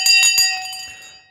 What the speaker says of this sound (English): The bell's just gone.